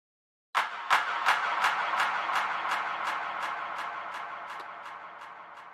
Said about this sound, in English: It just allows you to make these dance music style claps.